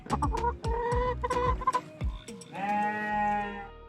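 A rooster and a hen cluck close by in quick, irregular bursts, followed by a longer drawn-out squawking call.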